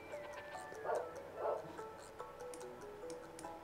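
Dog in the Captain Crunch video game giving two short yips or barks, faint, over a quiet background of ticking game sounds and a falling electronic tone, with no talk.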